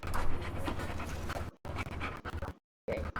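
A dog in the video game Teardown pants steadily and loudly up close in quick rhythmic breaths, cut by short silent gaps, with a faint whimper.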